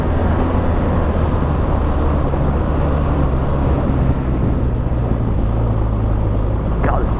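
A BMW R1200 GS Adventure motorcycle ridden off-road gives a steady, loud engine rumble buried in heavy wind buffeting, continuous throughout with no clear pauses.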